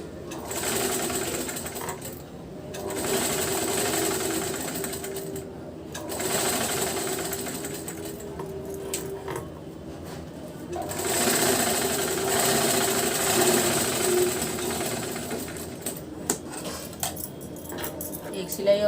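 A sewing machine stitches a blouse in several long runs of rapid, even whirring, separated by short pauses and light metallic handling clicks.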